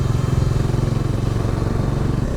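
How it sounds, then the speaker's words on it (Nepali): A motorcycle on a group ride from Kathmandu to Chitwan, heard close up as a steady, pulsing engine note while it cruises a hill road, with no talking. "एलेक्सले राम्रो कुदाइरहेछ बाइक"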